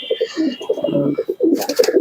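Pigeons coo in a loft of fancy breeds such as Andra, Tippler and Madras, with soft repeated throaty calls close by and a brief higher chirp near the end.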